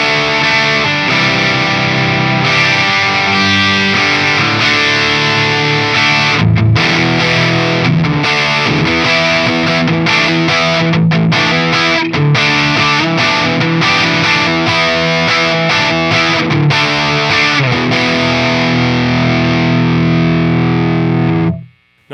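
Heavily distorted electric guitar played through a Soldano Astro-20 amplifier with the volume rolled up, dense driven chords and chugging riffs with brief palm-muted stops, loud and continuous until an abrupt cut at the end.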